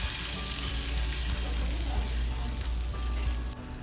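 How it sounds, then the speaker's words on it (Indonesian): Spices frying with a bay leaf in a pan, giving a steady, close sizzle that carries on without a break. "Tumis hingga bumbu matang dan harum."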